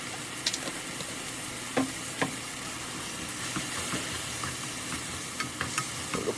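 Shishito peppers and mushrooms stir-frying with chili powder and a spoon of oligosaccharide syrup, giving a steady quiet sizzle broken by a few sharp scrapes and clicks of stirring, with no talk.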